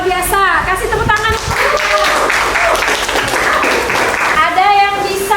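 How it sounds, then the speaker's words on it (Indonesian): Students applaud in a classroom, a dense burst of clapping that fills the middle of the clip, with voices speaking over it at the start and end. "Kasih tepuk tangan."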